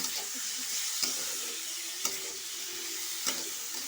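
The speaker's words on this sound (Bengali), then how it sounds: "একটু হলুদ দিয়ে নাড়াচাড়া করব" Mango jelly pickle being stirred in a pan with salt and turmeric, a soft continuous sizzle with a few sharp scrapes of the spoon spaced about a second apart, close and fairly quiet.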